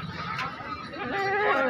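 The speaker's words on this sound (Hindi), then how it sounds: "ये देखो माशाल्लाह 3 बच्चे, कमाल दी बकरी माशाल्लाह खूबसूरत" Goat bleating at a livestock market, a few wavering cries close by over background chatter and crowd murmur.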